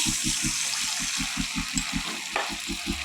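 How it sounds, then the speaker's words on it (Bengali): Water added to a cooking pot of cashew and poppy-seed gravy for chholar dal dhoka, a steady bubbling hiss with a regular low throbbing pulse underneath, close and continuous. "এবার আমি জল দিয়ে দিচ্ছি"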